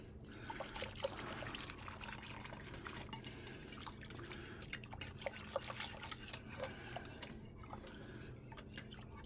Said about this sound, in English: Just rinsing my bowl out,